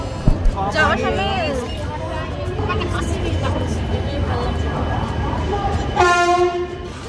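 A Bardhaman local train at a station gives a continuous rumble with a horn blast near the end, while crowd chatter and talk carry on throughout.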